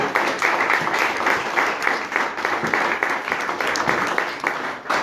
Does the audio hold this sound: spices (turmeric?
no